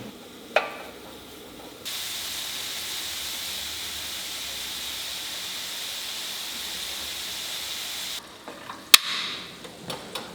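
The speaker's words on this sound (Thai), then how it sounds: "ตั้งกระทะไฟกลางไปทางอ่อนเอาเบคอนลงไป" Steady hissing sizzle of bacon frying in a pan over medium-low heat, soft and continuous for several seconds, with a few clicks and clatters of utensils at the start and end.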